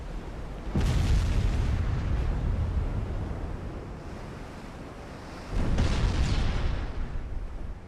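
Naval shells from an Ultimate Admiral Dreadnoughts battle, two heavy booming impacts several seconds apart, each followed by a long roaring, surf-like rumble that slowly fades.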